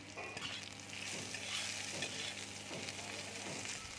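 Cashews, raisins and whole garam masala fry in a pan with a soft, continuous sizzle, broken by faint rhythmic stirring scrapes about once every second.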